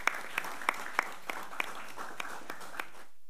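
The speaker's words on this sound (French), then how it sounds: "On peut applaudir" Sparse applause at a municipal council meeting in a hall, a few scattered claps in a loose rhythm over a quiet room, fairly faint and ending abruptly.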